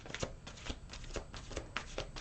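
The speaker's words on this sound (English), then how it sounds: "So one more shuffle." A deck of cards is riffled and shuffled close by, brisk rapid flutters in quick bursts with no talking.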